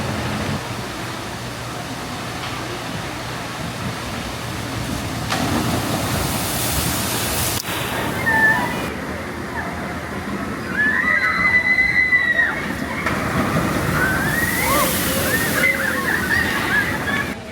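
Water rushes and splashes continuously at the Daredevil Falls log flume ride at Dollywood, loud and close, with surges in the flow and a faint mechanical whine and crowd noise underneath.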